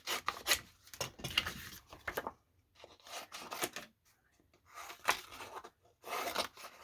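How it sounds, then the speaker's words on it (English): Scissors cutting around the paper cover of a handmade old-fashioned autograph book: soft, close rasping snips in irregular bursts separated by brief pauses, quiet and without talk. "I just kind of want to cut around this."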